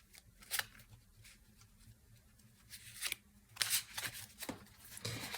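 A deck of Jungian cards is shuffled by hand in a quiet room, with several crisp riffling bursts of varying length, some quick and some drawn out, separated by short pauses; close and soft, with no talking.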